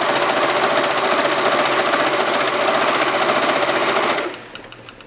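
A sewing machine stitches a fabric headband with a loud, steady, rapid mechanical whir that runs continuously, then stops abruptly near the end, leaving faint handling noise.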